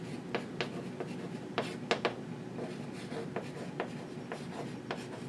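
Handwriting on a surface, heard close as scratchy pen or marker strokes with quick taps and pauses, set against a faint room hum and with no talking.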